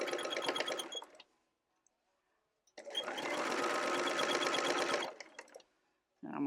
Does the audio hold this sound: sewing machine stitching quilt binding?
yes